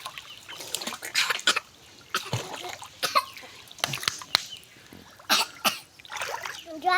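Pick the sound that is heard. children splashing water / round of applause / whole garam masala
children splashing water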